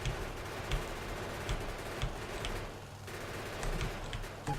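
Gunfire from normal ammo clears biter nests in Factorio, a dense, rapid, continuous stream of small crackling shots that stays fairly even, with a few louder pops along the way. Nobody speaks.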